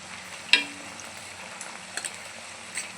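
A steady sizzle of hair oil with a sudden crackling burst as hibiscus leaves drop into the hot oil, then softer popping continues.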